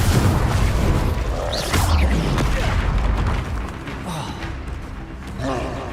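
Confringo, a blasting spell in the Hogwarts Legacy video game, lands with a booming magical explosion and rumbling aftermath. The spells are called out over it, and the burst fades into a softer tail.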